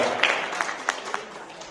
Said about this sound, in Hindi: एक बार जोरदार तालियों से अभिनंदन कीजिए कुमारी कुसुमलता पांचाल।